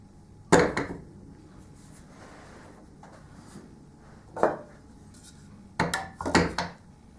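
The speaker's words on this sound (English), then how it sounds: "Let's see how it holds some lids." Metal pot lids clatter into a kitchen pot lid holder in four separate placements, each a sharp close clink and rattle followed by quiet pauses.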